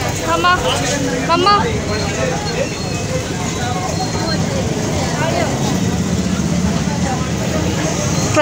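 Busy jammed street traffic with a dense, steady wash of engine rumble and horns from vehicles such as buses and cars, continuous and close throughout, with scattered voices in the babble.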